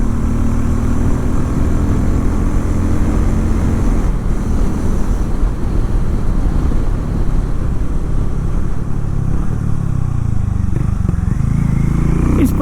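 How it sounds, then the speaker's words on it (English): A Harley-Davidson X440 motorcycle pulls hard in fifth gear along a short open road, its steady low engine drone blending with wind buffeting and climbing in pitch toward the end. "let's do a small pull on this motorcycle at 5th gear"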